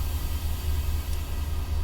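A locomotive hauls its train in Train Simulator, giving off a continuous low engine drone with a steady rolling rumble and hiss, alone and unbroken throughout.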